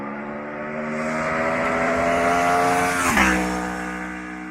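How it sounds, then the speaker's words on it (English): Aprilia RSV4 1100 Factory V4 motorcycle engine revving hard with a steady, rising roar, then a sudden drop in pitch near the end as the revs fall, loud and close with no talking. "Everyone that's into bikes must have heard an Aprilia V4."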